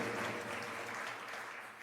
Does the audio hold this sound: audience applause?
yes